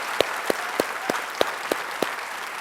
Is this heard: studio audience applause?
yes